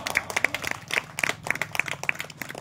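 Scattered, uneven clapping from a small audience at a village stage play performance, close and moderately loud, with individual hand claps clearly distinct rather than blended.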